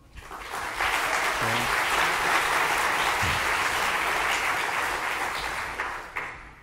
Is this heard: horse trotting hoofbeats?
no